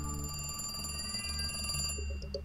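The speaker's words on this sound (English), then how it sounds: "The phone's ringing, answer." Telephone bell ringing in the video game The Cat Lady, a steady repeated electronic ring heard up close over a low ambient game drone, cutting off near the end.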